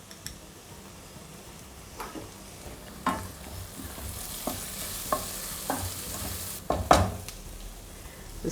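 Onions sauté with chilli powder and garam masala in a pan for a vegetable cutlet filling, a soft steady sizzle punctuated by a series of spoon taps and scrapes against the pan.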